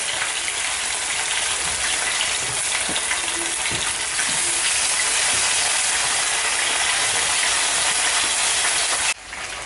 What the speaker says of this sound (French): Vous avez vu mon poisson Là, je vais terminer de frire tout